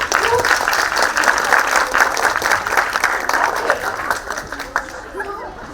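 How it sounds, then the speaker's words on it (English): A crowd at a book fair session applauds a young man with loud, sustained clapping mixed with chatter and voices, and it tapers off toward the end. "can we have a huge clap for this young man?"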